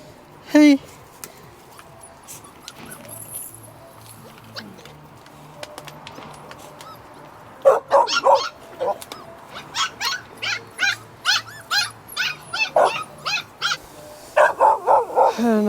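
A chained dog at a camping spot in China gives a single early yelp, then after a quieter stretch breaks into a run of close, repeated barks that continue at a steady rhythm to the end.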